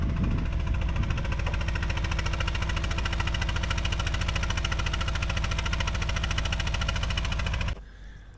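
The diesel engine of a Kubota digger runs close by with a loud, steady, rough idle and a knocking throb, then cuts off abruptly near the end, leaving near silence.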